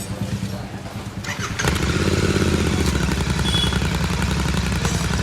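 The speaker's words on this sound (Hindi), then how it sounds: "ये अभी आप लोग को आवाज़ सुनाते हैं रेड रूस्टर आइडा मुल पे डीबी किलर के साथ।" A Royal Enfield Continental GT650 fitted with a Red Rooster exhaust and dB killer fires up after a moment of clattering, then settles into a loud, close, deep, throbbing idle with a steady rapid pulse.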